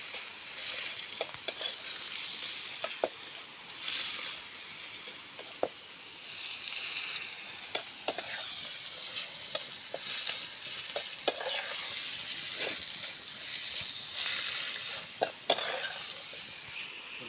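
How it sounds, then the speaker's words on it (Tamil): Liver for a liver gravy sizzles and frying in a pan while being stirred, a steady crackling hiss broken by scattered scrapes and clinks of the spoon against the pan, with no talking. "இப்போ வந்து லிவரை கொஞ்சம் போட்டுக்கலாம். அப்படியே கொஞ்சம் நல்லா கலக்குன்னு அப்படியே கலக்கலாம்."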